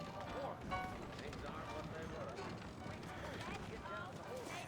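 Horse hooves clip-clopping in Red Dead Redemption, a continuous rhythmic patter of several horses moving together under wind-like noise and speaking voices, fairly quiet overall.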